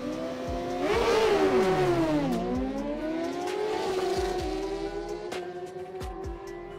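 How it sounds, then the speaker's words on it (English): A Honda CBR and a BMW 1000 RR drag racing at a no-prep event, engines rising in pitch through quick gear changes, loud and sustained with a sweeping drop as they pull away down the strip. "we got CBR Honda goes up against the BMW 1000 RR"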